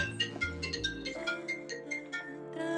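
A mobile phone rings with an incoming call, a bright melodic ringtone pattern repeating steadily at close range with no one speaking over it.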